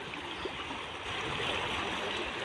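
Rushing floodwater sweeps steadily past close by. It makes a continuous, fairly loud churning wash with no pauses and no voices.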